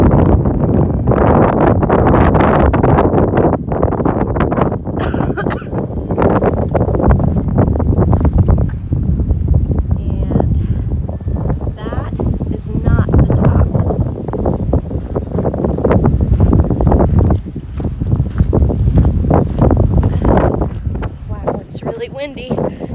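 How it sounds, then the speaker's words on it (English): Strong wind on Camelback Mountain, Arizona, buffets the microphone in loud, continuous roaring gusts, rising and falling throughout with rustling underneath. "Windy."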